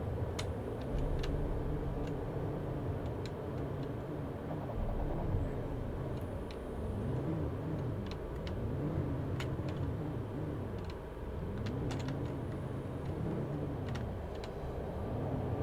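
Vehicle driving across terrain in Planet Crafter, a steady low engine rumble with a slowly wavering pitch, joined by scattered light ticks and clicks, no talking.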